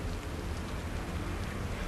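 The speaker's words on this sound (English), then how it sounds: "And raindrops." Steady rain falls in the horror video game The Evil Within as a dense, even hiss of drops with a low rumble beneath it, continuous and fairly loud.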